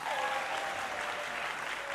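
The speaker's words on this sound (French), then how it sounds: "Applaudissons encore pour nous-mêmes, mes copines." Comedy show audience applauding, a steady wash of clapping that holds at an even, fairly distant level for the whole stretch with no talking over it.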